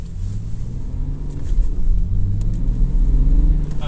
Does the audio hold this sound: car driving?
yes